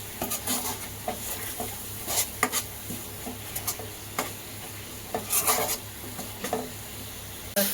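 Ground masala paste sautés in oil for a village-style crab curry, a soft continuous sizzle broken by repeated scraping stirs of a spatula against the pan, close and without voices.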